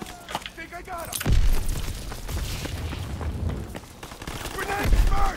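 Booming grenade blasts and gunfire in Call of Duty WW2 multiplayer combat, a heavy thump followed by rumbling and another burst near the end, with voices shouting in between.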